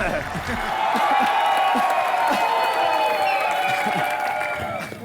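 A television comedy show's studio audience bursts into loud, sustained applause and cheering, a dense roar of clapping with whoops rising in and holding steady throughout.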